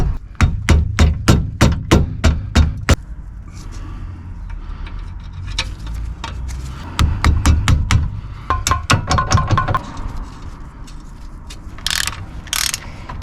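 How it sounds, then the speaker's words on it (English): Sharp metallic taps of a soft-faced hammer on a car's front lower suspension arm, fired in quick rhythmic bursts of about a dozen strikes, then a pause and another rapid series, loud and close. "Very light tap with a soft face of a hammer."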